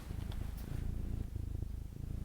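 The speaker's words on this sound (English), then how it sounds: "Can you hear the purr?" A cat purrs close up, a soft steady low rumble that pulses rhythmically with each breath, faint and continuous, with no voices over it.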